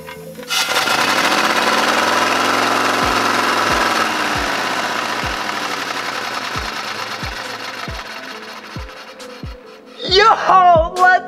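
A small 3D-printed, air-powered radial engine whirs up fast and loud, then gradually winds down with slowing, evenly spaced clunks, followed by an excited voice.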